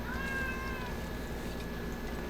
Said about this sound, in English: My cat is suddenly awoken and wants to be petted